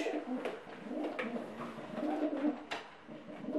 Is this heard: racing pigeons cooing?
yes